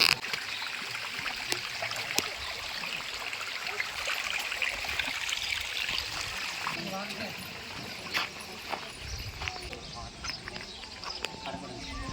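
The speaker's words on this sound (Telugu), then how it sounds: "వాటర్ గట్టిగా వస్తుంది, దానివల్ల ఎక్కువ మనకు ఎక్కువ మొత్తం ఉంటుంది." Strong, steady rush of flowing water runs for the whole stretch, a dense, even hiss with occasional splashy spikes, and faint voices may sit underneath it.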